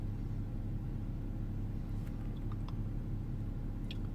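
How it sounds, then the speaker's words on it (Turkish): A car engine idles at about 680 rpm with no cylinder misfire, a faint low steady rumble running evenly throughout with a few tiny clicks. "aracımız şu anda rolanti'de çalışmakta"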